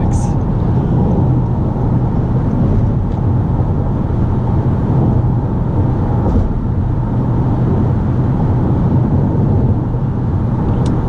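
A 2018-2020 Toyota Camry V6 accelerating on a test drive: a steady, loud engine and road roar that holds at an even level, heard from inside the cabin with no break.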